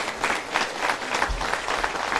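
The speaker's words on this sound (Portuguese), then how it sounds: "eu quero uma salva de palmas aqui para a nossa Guarda Civil" Audience applause for the Civil Guard at the 64th anniversary celebration of Osasco's Central Municipal Market, a sustained burst of dense clapping from a crowd that stays steady and fairly loud throughout.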